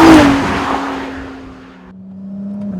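A Ferrari 296 GTS convertible with a turbocharged V6 gives a loud, close burst of engine note whose pitch falls as it goes by, then settles into a steadier, fainter drone.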